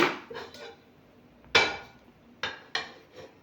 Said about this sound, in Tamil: இப்போ நம்ம சாப்பாடு செய்யறதுக்கு குக்கர் அடுப்பில் வச்சுக்கலாங்க